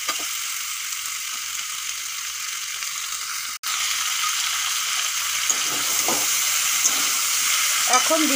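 Beans and pumpkin frying and being stirred in a pan for a mixed vegetarian vegetable dish, with a steady close sizzle and scraping stirring noises that grow busier in the second half.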